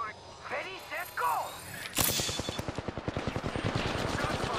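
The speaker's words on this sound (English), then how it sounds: "Gunfire." In the game Apex Legends Arenas, a sudden burst of rapid gunfire erupts after a brief electronic sound, followed by a fast, steady rattle of repeated shots, loud and close.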